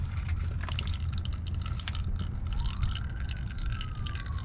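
Engine oil drips steadily from the loosened drain bolt of a 2000 Chevrolet Silverado 2500 during an oil change, a continuous close liquid patter over low rumbling background noise.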